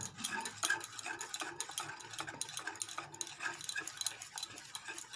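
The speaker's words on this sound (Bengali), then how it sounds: "এবার এই তেলটা আমি ভালো করে মেশাবো দেখতে পাচ্ছ এটা আমি মিশিয়ে যাব মিশিয়ে যাব" Oil being stirred into homemade Christmas cake batter in a bowl, a steady close scraping and clicking of the utensil against the bowl in quick continuous strokes, with no talk.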